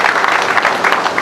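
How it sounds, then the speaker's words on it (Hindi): An audience applauds in a brief, dense burst of clapping, steady and close, with no voices over it. "तालियां कमजोर हैं"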